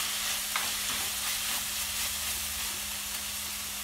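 Prawn cutlet masala with chilli powder sizzles and fries steadily in a pan while being stirred, a continuous close hiss with soft scraping and no talking.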